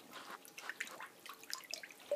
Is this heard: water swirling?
yes